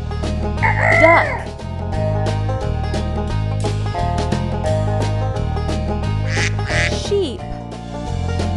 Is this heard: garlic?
no